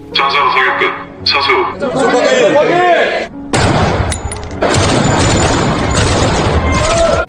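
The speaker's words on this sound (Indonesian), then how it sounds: "Hentakan senapan di tangan dan bunyi bising tembakan adalah hal baru bagi mereka." A voice talks, then loud, sharp sniper rifle shots crack in quick succession, close and harsh.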